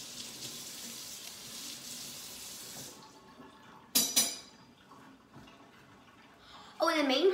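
Tap water runs into a kitchen sink while fruit is rinsed, a steady hiss for about three seconds that then stops, followed by a brief splash and another loud gush of running water near the end.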